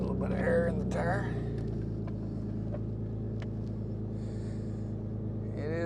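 A truck crawls through mud in four-wheel drive, its engine rumbling low and steady up close, with a few brief louder surges near the start and faint clicks over the drone.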